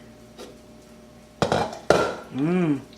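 Pork stew in a pot is checked and stirred, giving a couple of sharp utensil clanks against the pot followed by a short voiced hum, over quiet kitchen background.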